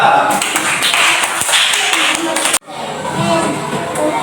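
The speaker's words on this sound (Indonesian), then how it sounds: "berikan tepuk tangan untuk teman kita" Classroom students clap for a classmate, a burst of quick near claps that breaks off abruptly midway, then softer room noise and faint voices follow.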